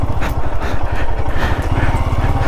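A Himalayan motorcycle rumbles along close by while riding, its loud low engine pulse steady and rhythmic, with light clatter over the drone.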